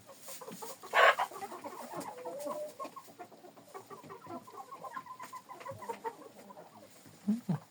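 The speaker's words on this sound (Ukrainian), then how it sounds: "Кури, бачите? ходять, трохи траву скобуть, довбуть." Chickens cluck softly and continuously nearby while pecking and scratching at grass, with scattered small pecks and scratches, and one louder squawk early on.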